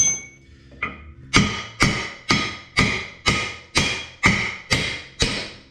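Hammer blows tapping a ball joint out of a Ford Super Duty front axle, two lighter taps followed by nine loud, evenly spaced metallic strikes, each ringing briefly before the next.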